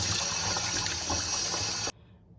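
Water runs and sloshes steadily while anchovies are washed in a bowl until the water runs clear. The rushing sound is close and continuous, then cuts off abruptly near the end.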